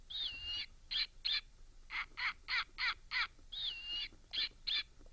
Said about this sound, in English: This is the snowy owl, which is really beautiful because he's got yellow in his eyes.